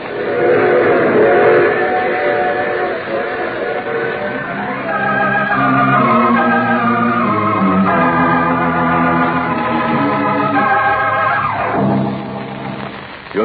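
A train runs through a radio drama scene, its rumbling carriage noise joined by long, wavering whistle-like tones that rise and fall, loud and continuous throughout.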